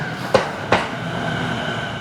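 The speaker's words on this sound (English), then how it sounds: "Here comes the train going the other way." A train rushes past in the opposite direction with two sharp, loud clacks early on, followed by a steady rumbling rush of rail noise that carries on to the end.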